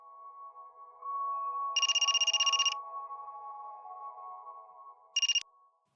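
A mobile phone rings in a quiet home, sounding two bursts of rapid electronic trilling, one long and one short, over a steady background tone.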